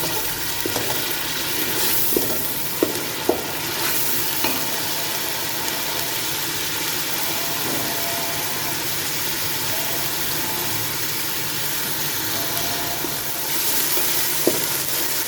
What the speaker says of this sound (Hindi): ये जी अदरक लहसुन और मिर्चों की पेस्ट की भुनाई हो रही है।